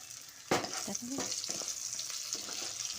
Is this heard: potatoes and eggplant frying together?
yes